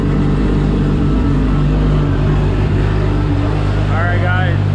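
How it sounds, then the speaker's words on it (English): Toyota Supra engine screams under load on a dyno in an enclosed room, a loud continuous roar with turbo whine rising near the end, spoken voices overlapping the noise. "Feels so good to hear it just screaming inside the dyno room."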